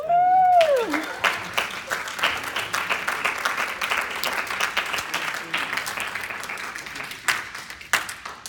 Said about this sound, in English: can we give a hand clap to Terrence?